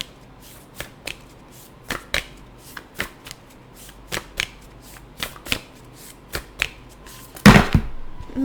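A deck of tarot cards being shuffled by hand, with a dozen or so crisp, separate riffles and snaps at an uneven rhythm, close and clear, ending in one louder burst.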